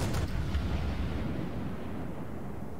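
Armor-piercing ship gun salvo in the naval video game World of Warships, a sharp opening blast followed by a deep rumbling boom that slowly fades over a few seconds, with no speech.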